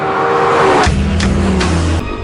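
A Lexus LFA's high-revving engine howls loudly up close, a bright whine that cuts off sharply and drops to a deep, steady idle rumble, with a few quick throttle blips rising over it before a final stab.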